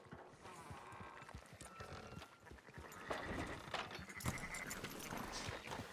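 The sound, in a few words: sheep in the video game Red Dead Redemption 2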